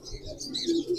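Breeder pigeons coo softly in a cage, with a couple of low murmuring coos and faint chirps close by in a brief moment.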